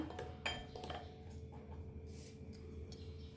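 A spoon scrapes and clinks against a pot while mixing gooseberry masala, quiet irregular metallic taps and stirs close by with faint background hum.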